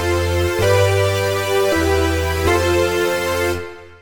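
Wavetable synth with modest unison detune and no random modulation, a rich sustained harmonic chord with three quick retriggers, steady and loud before cutting off.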